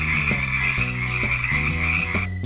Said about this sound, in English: It's a jumping frog.